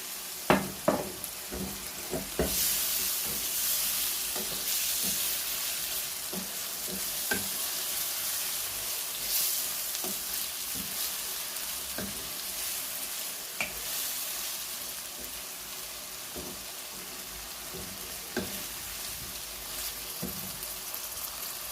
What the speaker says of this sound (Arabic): هنا غادي نضيفو الفيلي السمك